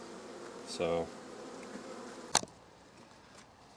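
Honey bees buzzing at a hive under inspection, a soft, continuous insect drone in the background, with a brief louder buzz as one passes close and a sharp click or knock; a voice says a single word.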